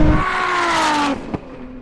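A Ferrari SF90 and a 1000-horsepower Nissan GTR race side by side, one engine note winding high and strained for about a second before cutting off abruptly, followed by a brief sharp knock and a fainter lingering drone.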